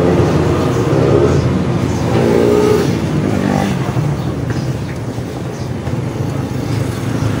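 A Honda XR200 motorcycle engine with a worn timing chain idles loudly close by, a steady rough mechanical rumble with a rattling, ticking clatter throughout.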